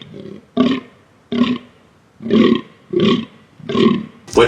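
Fallow deer calls: five or six separate deep, rough groaning belches, each about half a second long and evenly spaced. They are loud and close, with nothing else heard between them.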